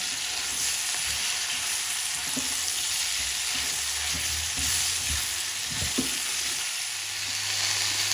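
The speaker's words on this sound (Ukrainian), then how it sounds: "Тепер додаємо нашу цибульку і на середньому вогні, помішуючи, смажимо десь 8-10 хвилин." Steady, dense sizzling of onions frying in a pan over medium heat, with occasional soft scrapes and clinks of a utensil stirring, continuous throughout.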